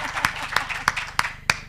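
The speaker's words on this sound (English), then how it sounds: "clap for yourself" Educators at a digital literacy graduation ceremony clap for themselves, a few loud, evenly spaced claps from close by ringing over a soft patter of scattered clapping from the gathering.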